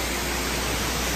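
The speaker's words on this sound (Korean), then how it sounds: "와, 여기 폭포 같은 게 막 있으니까" A waterfall at Yeomiji Botanical Garden roars as a dense, steady hiss of falling water, close and constant, with no voices.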